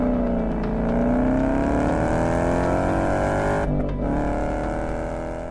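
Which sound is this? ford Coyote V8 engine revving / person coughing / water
ford Coyote V8 engine revving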